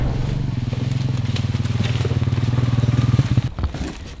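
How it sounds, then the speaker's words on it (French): An old Honda 350 motorcycle idling close by, a steady throbbing engine pulse lasting about three and a half seconds before cutting off into a brief clatter. "Ça là, c'est mon vieux Honda 350."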